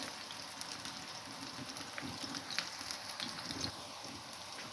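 Chicken meatballs fry in a pan with a steady close crackle and spitting pops, the sizzle running continuously under faint background noise.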